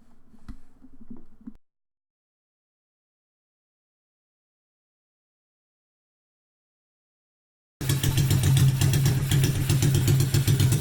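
After a brief low rumble and then several seconds of silence, a bobber motorcycle engine fires up and runs steadily, a loud close throbbing idle that continues to the end.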